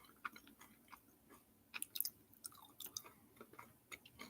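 Someone chews sweet potato tots close to the mic, with soft, irregular crunchy and squishy bites that stay quiet throughout.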